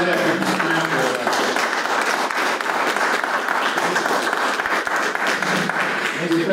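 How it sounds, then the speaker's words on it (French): An audience at a town council meeting in Racine breaks into sustained applause, dense steady clapping from many hands that holds at an even level throughout, with faint voices mixed underneath. "Bonne applaudissements pour..."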